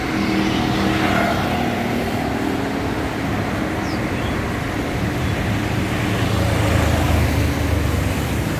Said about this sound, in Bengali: এখন যে এই যে বাসগুলো যেগুলো আসছে